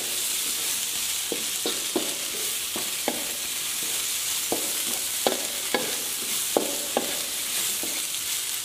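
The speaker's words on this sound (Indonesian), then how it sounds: "Nah, kemudian kita masukin tahu sama tempe ya. Kita oseng-oseng lagi." Tofu and tempeh stir-fried with white mustard greens and red chili in a pan, giving a steady, dense sizzle with repeated clinks of a spatula scraping and tossing, close and continuous.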